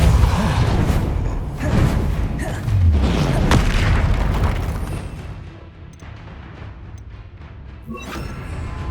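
Spell-casting explosions from Hogwarts Legacy on PS5 land as loud booms and rumbling blasts, one after another with whooshing bursts, then fade into a quieter rumbling tail.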